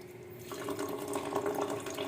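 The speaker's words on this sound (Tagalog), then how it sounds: "Lagyan ko muna ng tubig." Tap water runs steadily into a container for washing, a continuous splashing flow that swells slightly after a quieter start, close and alone.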